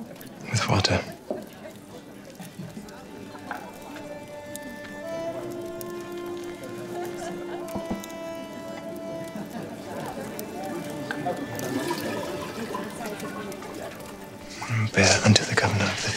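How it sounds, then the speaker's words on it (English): Water poured to fill water vessels makes a steady splashing, rain-like patter under a soft tonal backdrop, swelling into louder rushes at the very start and again near the end. "Gather the water vessels and fill them."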